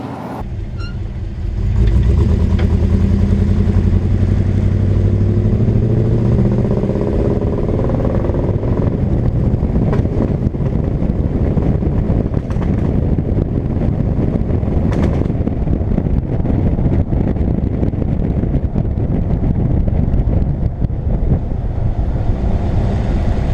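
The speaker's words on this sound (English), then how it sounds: "So we're second gear, then we start backfiring." A Chevrolet K1500 pickup with a newly replaced fuel pump accelerating hard in second gear, a loud, continuous engine roar heard from inside the cab with heavy wind noise and some sharp pops.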